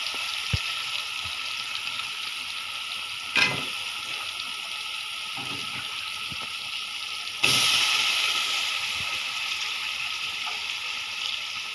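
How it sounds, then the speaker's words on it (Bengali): Chicken pieces going into a pan of fried spice paste for chicken biryani, a continuous close sizzle and hiss broken by a couple of louder bursts as meat hits the oil. "এখন আমি মাংসটা দিয়ে দিব এই যে মাংসগুলি দিয়ে নিচ্ছি"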